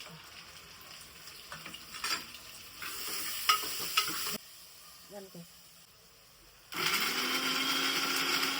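Tomatoes going into frying onion in a pan, with a loud sizzling burst near the end after a quieter stretch, earlier broken by spatula scrapes and clinks.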